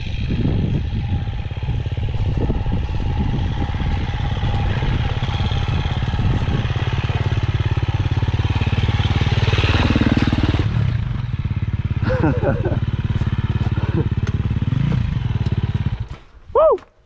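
A KTM 250 dirt bike climbs a very steep mountain hill, its engine droning loud and steady for most of the climb before cutting off abruptly near the end, with voices faintly present.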